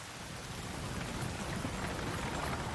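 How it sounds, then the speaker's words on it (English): Steady rain falls in the Attack on Titan anime, a dense, even hiss of drops with no letup, fairly loud and continuous with no voices over it. "Oh, it is raining."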